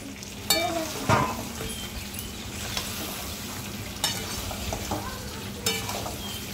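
Meat frying and sizzling in a pan while being stirred, with a steady hiss and occasional scraping clatters from the utensil, close and moderately loud, no talking.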